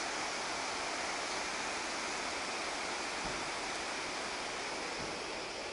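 River Ness flowing below steps in Inverness, heard from about 40 feet above as a steady broadband rush of water, constant and unbroken throughout.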